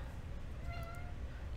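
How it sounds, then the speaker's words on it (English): A house cat meows a few times in a quiet indoor room; the calls are short and moderately close, standing over a steady low background hum. "you can hear my cat meowing."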